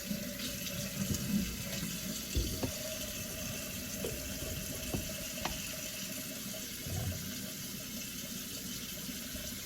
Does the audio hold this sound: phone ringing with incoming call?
no